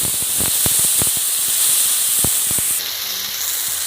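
Onion paste hits hot oil with a bay leaf and whole cumin, a loud, dense hiss shot through with sharp crackling pops that eases slightly near the end.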